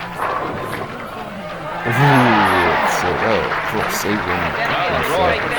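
A tennis crowd applauds and cheers during the 1990 Yuma Open title match. The steady clapping fills the whole stretch and swells slightly partway through, while a commentator talks over it.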